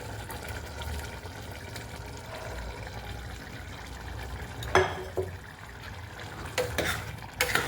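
Ragda, a yellow pea curry, goes into a pan and is stirred with a spoon, giving soft wet bubbling and scraping with a few louder clinks of the utensil against the pan.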